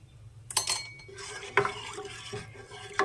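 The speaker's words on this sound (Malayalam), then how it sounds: "നമ്മൾ ഇങ്ങനെ ഇളക്കിക്കൊണ്ടേയിരിക്കണം" A spoon stirs a thick ragi smoothie mixture in a cooking pot, giving soft scraping strokes and a few light metallic clinks against the rim, close by and with no talking.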